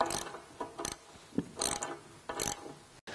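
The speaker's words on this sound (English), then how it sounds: "Using a Torx T50 to go ahead and bring the striker down into the bumper." A Torx T50 ratchet driver tightens the bumper striker on a Jeep JL rear bumper, giving several quiet, close bursts of ratcheting clicks with metallic pawl ticks and short pauses between strokes.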